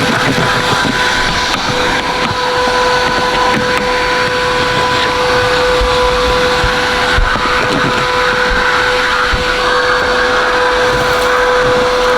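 A continuous loud drone from a vacuum cleaning a Chevrolet Caprice car interior, with a steady whine and rushing air, humming without a break close by; the vacuum is not sucking well.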